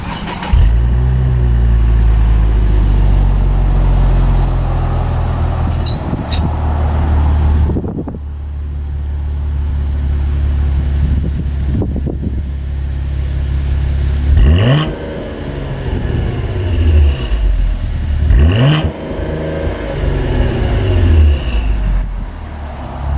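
An ATSV engine fires up and idles with a deep, throaty rumble, broken by a brief pause and then several sharp revs that rise and fall near the listener, loud and with no talking.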